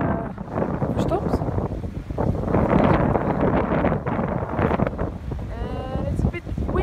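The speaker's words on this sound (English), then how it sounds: "It's a bit windy today." Strong wind buffets the microphone in gusty roars while people talk underneath, with a faint rushing of water in the background, on Tristan da Cunha.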